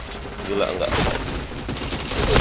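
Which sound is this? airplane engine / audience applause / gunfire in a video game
gunfire in a video game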